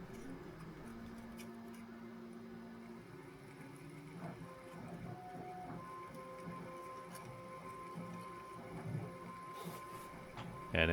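A small 12 volt peristaltic pump hums and whirs quietly as it draws fluid from a reservoir into a nightlight chamber, a faint steady mechanical drone with light clicks and a brief louder knock at the end.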